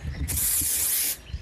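A can of aerosol insect repellent gives one sustained hissing spray burst lasting about a second, close and loud, in a vegetable garden, with faint background noise before and after.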